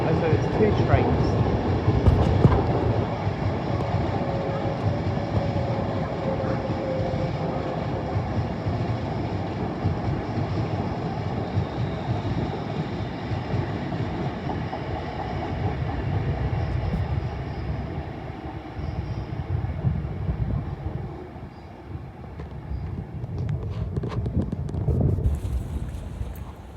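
A London Northwestern Railway train bound for Milton Keynes Central rumbles by at Primrose Hill, a long, steady low roar with wind buffeting the microphone, easing briefly before swelling again near the end.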